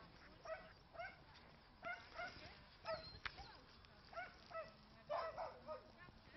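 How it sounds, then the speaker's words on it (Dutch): A young working kelpie puppy gives a run of short, high yips and whiny barks, repeated at an irregular pace and fairly close, with some quiet background sound between them. "Je moet niet blaffen"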